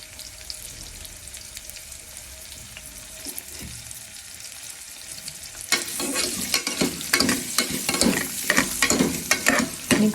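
Chopped onion and green chilli frying in a pan, first a quiet low sizzle, then from about the halfway point a louder crackling sizzle broken by scraping and stirring strokes, with no voices.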